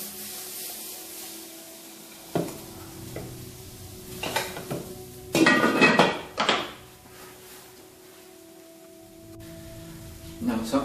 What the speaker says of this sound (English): So the aubergines are going in next.